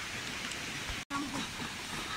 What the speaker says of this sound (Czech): Tady fakt prší.